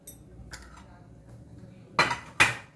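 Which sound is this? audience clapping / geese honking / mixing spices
mixing spices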